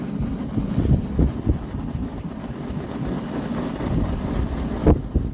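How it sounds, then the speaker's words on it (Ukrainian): Rough, gusty rushing air from a sitting pad fanned over a Kovea camping gas burner buffets the microphone with low thumps, like a pad being fanned repeatedly, close and fairly loud. "І буду вітер імітувати своєю сидячкою, так?"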